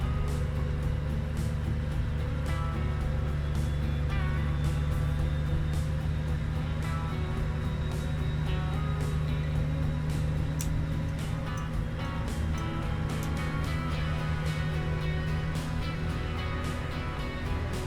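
Steady droning engine of a Mack R truck hauling a Fruehauf fuel tanker in American Truck Simulator, a constant low hum with a faint rising whine, loud and unbroken, no talking.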